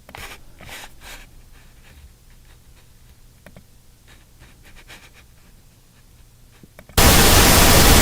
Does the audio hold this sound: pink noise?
yes